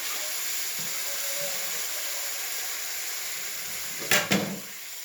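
A steady hiss of egg curry sizzling in a pan, with a brief burst of sharper crackle near the end as water meets the hot mixture.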